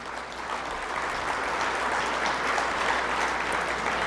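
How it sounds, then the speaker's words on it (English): Audience applause at a 2018 Gridiron Greats fundraising event, a steady wash of clapping from a large crowd held at an even level throughout, with no talk over it. "another round of applause for them"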